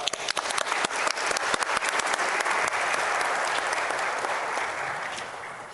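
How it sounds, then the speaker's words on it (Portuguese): A round of applause from an audience at a Brazilian parliamentary session, with many hands clapping loudly and densely, then tapering into a sustained roar that slowly fades. "Salva de palmas."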